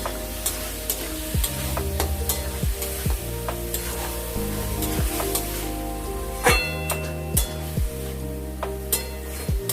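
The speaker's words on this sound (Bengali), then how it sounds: "এটাকে ভালো মতো করে আগে মশলার সাথে এটাকে কষে নেব" Boiled banana flower and fried potatoes sautéed with spices in a pan, with a loud, constant sizzle and repeated metal spatula scrapes and clanks at a fairly regular pace, close up.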